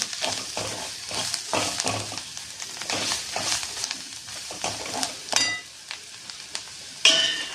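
Chili powder being stirred into a hot pan for Maharashtrian brinjal bharit, with a steady sizzle, repeated scraping spoon strokes against the pan and a few sharper clinks toward the end; no talking.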